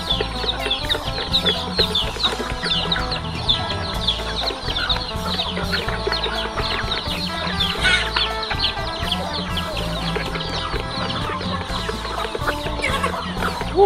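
Chickens cluck on a rural Thai farm where poultry and fish are kept, a steady, dense chorus of fowl calls running throughout under busy background noise.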